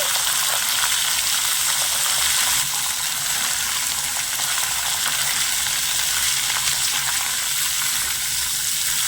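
Cauliflower pieces sizzle in hot oil with ginger in a pan, a steady, loud, dense frying hiss running unbroken throughout with no one talking.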